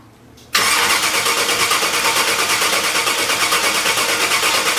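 Car engine with a freshly reconnected fuel pump wire catching after a brief quiet moment, then running loud and steady at a close idle with an even pulsing rhythm.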